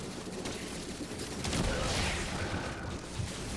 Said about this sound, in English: Good machine gun.